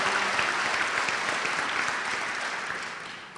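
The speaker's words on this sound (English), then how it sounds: "let's have a round of applause for that also" Applause from a dinner audience in a hall, a dense steady patter of many hands that gradually fades toward the end, with no talking over it.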